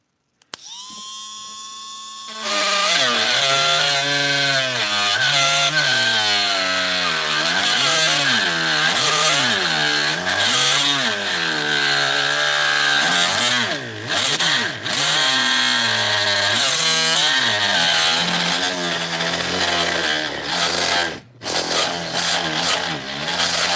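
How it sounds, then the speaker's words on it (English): A Dremel rotary tool whines loudly and continuously as it drills holes in a trinket basket, its pitch wavering up and down as load changes, with a couple of brief dips near the end. "Let's go ahead and drill these holes."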